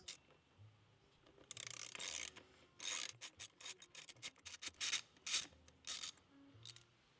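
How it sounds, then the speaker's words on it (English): Brake caliper screws on a 2014-2019 BMW R1200GSA motorcycle's rear brake are loosened with a Torx T30 bit, giving a series of short, close rasping ratchet clicks in uneven bursts. "Next, remove the 2 caliper screws using a Torx T30 bit."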